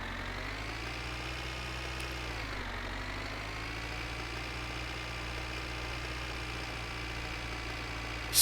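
Tractor engine idling inside the cab in My Winter Car, a steady low rumble with layered mid hum that stays constant and close throughout, with a brief sharp knock right at the end.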